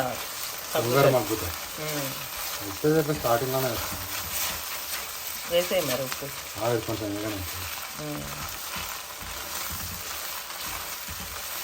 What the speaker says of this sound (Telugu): ఇప్పుడు జింజర్ గార్లిక్ వేసిన తర్వాత తిప్పుతూ ఉండాలి